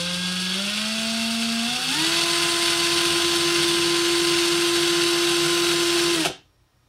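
A Ryobi power tool runs unloaded at full speed off a solar panel, giving a steady close motor whine that climbs in pitch about two seconds in, holds, then cuts off abruptly near the end.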